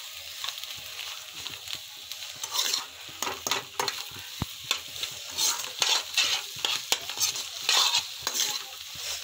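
Egg bhurji cooks in a pan and is stirred often. A constant sizzle sits under irregular scraping and tapping from a spoon, all close and fairly loud.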